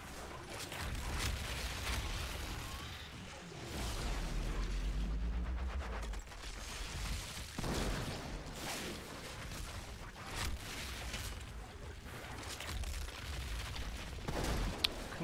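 Molten Eidola legendary gun fired in Outriders during a fight with an elite enemy, rapid bursts of in-game gunfire with impacts and mechanical game effects running continuously and loud through the whole stretch.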